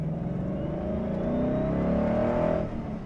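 A 2012 Ford Mustang Boss 302 engine pulls hard under acceleration, its rising harmonic drone loud and close for about three seconds without talk before easing slightly at the end.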